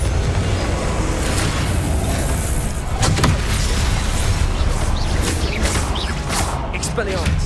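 A Confringo fire spell cast in the video game Hogwarts Legacy, with a booming blast and crackle over a dense, loud wash of game noise, mixed with a voice calling out.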